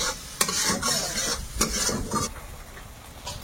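Masala with yogurt and cashew paste sizzles in a pan while being stirred, giving close, brisk scraping strokes and sharp metal knocks over a bubbling hiss. The sound eases off near the end.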